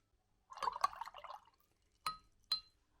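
A watercolour paintbrush swishes and clinks inside a glass of water, a short rattle of taps followed by two separate bright clinks against the glass, quiet and close.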